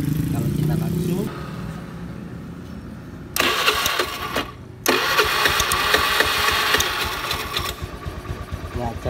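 A car engine idles steadily while its starter motor, fed by a faulty starter switch, grinds in again over the running engine. There are two loud, close bursts of harsh, rapid clattering separated by a short gap.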